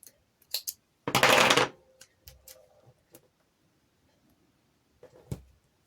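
Scissors snip through double-sided tape while a paper baby card is being made: a few sharp clicks, one longer rasping cut, then scattered light snips and a final click in a quiet room.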